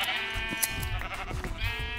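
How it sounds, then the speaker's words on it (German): Sheep bleating while being sheared in the video game Minecraft, a few nasal bleats in quick succession over background game music, fairly close. "scheren wir mal wieder ein paar Schafe"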